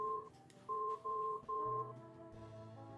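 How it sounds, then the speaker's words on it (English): A cell phone ringtone plays faintly, with a repeating pattern of short electronic tones and pauses. "It was my cell phone!"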